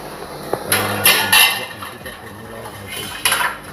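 A metal wok knocks and clatters onto a gas stove in a few loud, close metallic bangs and scrapes, with quiet pauses between.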